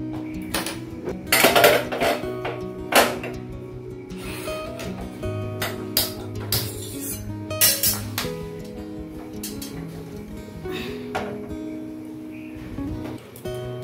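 A metal pot of water for rice is set on a home kitchen stove, with irregular clanks and clinks of pots and utensils, some loud knocks, and quieter rattling in between.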